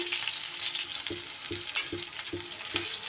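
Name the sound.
onion frying in hot oil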